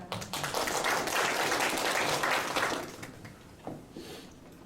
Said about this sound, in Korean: 기대와 격려의 박수로